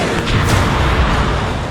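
A barrage of missiles launched by Iran on a Monday morning, heard as a dense, loud low rumbling roar with a couple of heavier thumps, continuous over a brief stretch.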